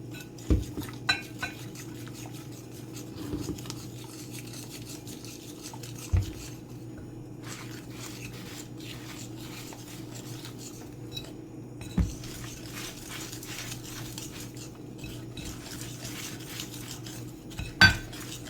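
A utensil scrapes and clinks against a cooking pot while fish curry is stirred with added water, with sporadic sharper taps on the rim between stretches of soft stirring and no talk.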